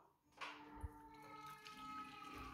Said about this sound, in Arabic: دروك غادي نصفي ندير الماء وحده وندير الروز وحده